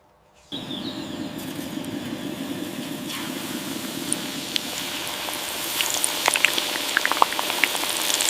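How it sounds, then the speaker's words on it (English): Buttermilk-floured chicken lowered into hot oil, which bursts into a loud, bubbling deep-fry roar and then keeps a dense, steady sizzle with sharp crackling pops. "Fry for 12-15 minutes until deep golden brown."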